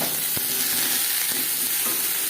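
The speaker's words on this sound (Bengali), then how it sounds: "লবণ হলুদ দিয়ে পটল ভেজে নেব।" Pointed gourd pieces fry in oil with salt and turmeric, giving a continuous bright sizzle close by, with a few soft scrapes of stirring and no talk.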